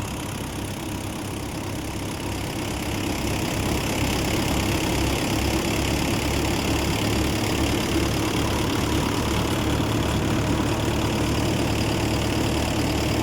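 A farm machine engine runs steadily at around 1100-1200 rpm during night cumin harvesting, a continuous near low rumble with a slight rise in level after the first few seconds and no talk.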